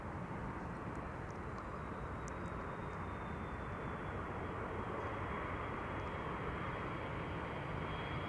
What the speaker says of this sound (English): Turkish Flight 1951 arriving from Istanbul